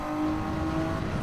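A Toyota Alphard engine holding a steady, loud drone at high revs in the Gran Turismo 7 video game, heard close and alone, rising slightly at the end.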